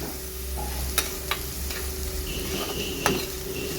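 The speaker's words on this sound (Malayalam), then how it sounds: "ഇത് നമുക്ക് നന്നായിട്ട് വഴറ്റാം" Ingredients for a fish curry sauté in a pan with a low, steady sizzle and a few light clinks and scrapes of stirring, close by and without speech.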